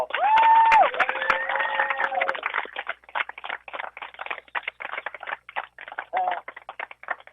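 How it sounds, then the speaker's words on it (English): Scattered claps from a crowd honoring senior softball players at a Rockmart vs Dade County game, starting after a voice over a loudspeaker and continuing in uneven, fairly distant bursts. "Give them a big round of applause."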